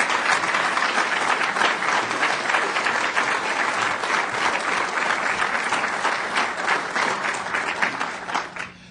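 A lecture audience applauds warmly to welcome speaker Mark Steyn, a dense sustained clapping from many hands that fades out at the end.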